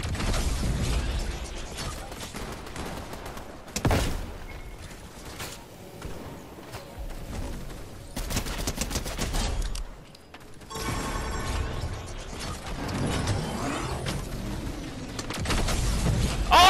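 Cannon fire and mechanical clanks from a Fortnite Team Rumble match, several bursts separated by brief quieter gaps, loud and busy with layered game effects and no talk.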